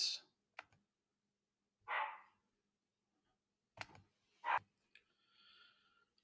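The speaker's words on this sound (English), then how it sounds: "My dog was barking." A pet dog barks indoors at home, a few sharp separate barks spaced over several seconds with quiet gaps between them.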